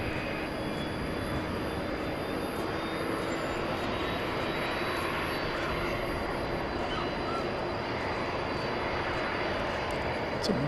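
A jet airliner lands at Dallas Fort Worth Airport at night, a steady broad engine roar that holds throughout, distant and unbroken, with faint background noise.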